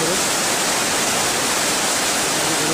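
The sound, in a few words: water flowing under snow on Amarnath trail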